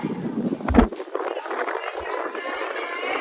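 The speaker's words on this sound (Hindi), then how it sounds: "बहुत ही हवा चल रही है।" Strong wind buffets the microphone outdoors near the large Jawai dam in Rajasthan, a steady broadband roar with a louder gust burst near the start, close and continuous.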